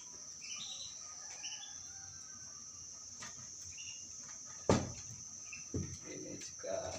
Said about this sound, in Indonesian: Jadi silangan burung Lizat sama Rasmi.